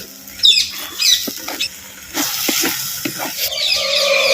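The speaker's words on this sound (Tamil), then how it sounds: "சேர்த்த கல் உப்பையும் அப்படியே தக்காளி விழுதுகளோட நல்லா பரட்டு பரட்டு பரட்டி விட்டு" Rock salt being stirred into tomato paste masala in a pan for egg fry masala, giving close scraping, patter and soft sizzle in irregular strokes, with no talking.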